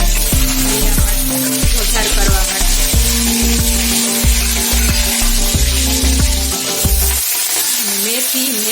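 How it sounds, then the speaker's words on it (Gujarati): Curry leaves and green chilies crackle and sizzle loudly in hot oil as a tempering for dhokla, with steady spattering, clinks of a spoon against the pan, and a quieter tail as the sizzle settles. "ભાઈ લીમડો નાખી મરચા નાખી દેવાના"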